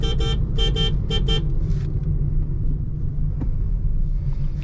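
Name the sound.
engine noise inside Honda Amaze cabin while driving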